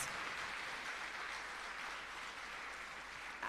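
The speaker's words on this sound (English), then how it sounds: "I think they deserve a bigger round of applause." Audience at a coding academy graduation ceremony claps in a continuous, even round of applause, fairly distant and uniform throughout, with no speech over it.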